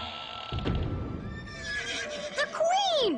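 A horse in an animated palace scene, overheated from hard riding, gives a loud, high whinny that rises and falls, over earlier hoof clatter and bustle.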